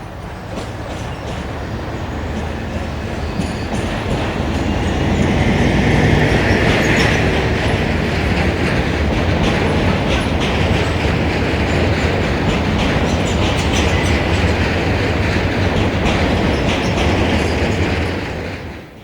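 Class 56 diesel locomotive 56032 hauls a Cardiff to Moss End Enterprise freight train past, a loud growing rumble with rhythmic wheel clatter and some squeal, sustained for the whole pass, no voices.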